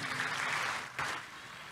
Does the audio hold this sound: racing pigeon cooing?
no